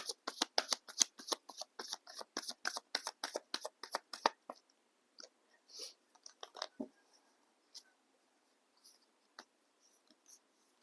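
A deck of tarot cards is shuffled close up in fast, rhythmic riffles of crisp slaps and flutters, then slows to scattered soft taps and card-handling rustles.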